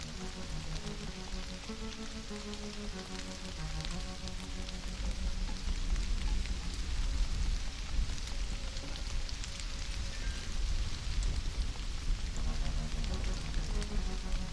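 Steady rain hisses throughout in the jungle survival game Stranded: Alien Dawn, a dense continuous patter growing slightly stronger midway, with soft tonal game music underneath.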